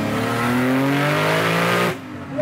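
TJ Hunt's GT-R-powered Ford Mustang engine screams close and loud against the rev limiter, a rising harmonic wail held steady for about two seconds before it cuts off abruptly.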